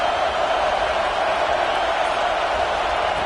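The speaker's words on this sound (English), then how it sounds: "Listen to the crowd energy here in the early going." A stadium crowd in the College Football 26 video game roars early in a tough road environment, a dense, steady wall of noise that holds at an even level throughout without sharp peaks.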